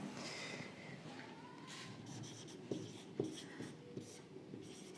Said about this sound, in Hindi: मैं यहाँ पर एक उदाहरण लिख रहा हूँ।